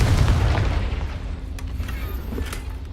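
Casting the Confringo fire spell in Hogwarts Legacy sets off a deep, rumbling blast that hits loud at once and slowly dies away into a low lingering roar, with faint crackles afterward.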